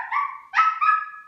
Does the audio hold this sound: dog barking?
yes